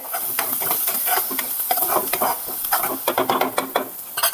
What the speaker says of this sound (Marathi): कांदा टोमॅटो वाटण घातलं बारीक केलेलं आता त्याला छान तेल सुटेपर्यंत भाजून घ्यायचं